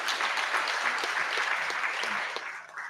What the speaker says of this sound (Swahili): Pigeni director makofi mzuri.